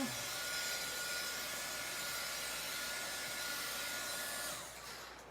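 A heat tool blows steadily over a chalk board to dry it, a constant airy whoosh that is faint overall and tapers off near the end.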